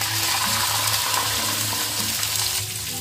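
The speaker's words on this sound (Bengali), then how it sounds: "দিয়ে দেবো জল" Water hits a hot pan of fried onions for chicken biryani, a loud, dense, steady hiss and rush of boiling and sizzling for a few seconds with no voices.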